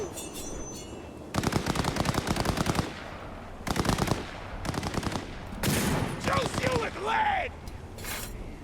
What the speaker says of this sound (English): I don't even see who's throwing grenades and shooting them.